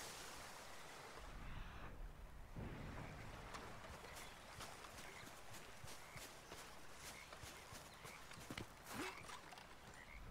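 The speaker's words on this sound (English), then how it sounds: "Oh, that's a horse." Horse hooves clip-clop in a regular walking rhythm over a steady outdoor ambience in Red Dead Redemption 2, moderately close and fairly soft, with no talking.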